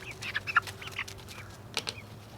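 Easter Egger hens and their chicks making soft, scattered clucks and chirps, a few brief calls spread across the moment, close but fairly quiet with no talking.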